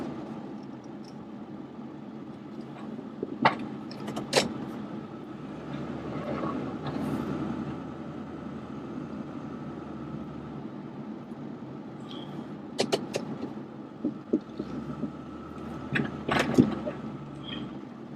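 Snow plow truck dragging about four inches of snow back from a spot beside a propane tank, its engine droning steadily with low rumble and occasional scraping clanks and knocks, nearby and moderately loud.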